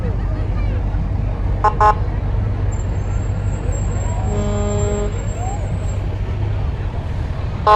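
Jackson Fire Department fire engine 1409 rumbles past in a parade, a loud low engine drone with short horn toots and a sustained high-pitched tone and siren-like sweep in the middle, while people talk nearby.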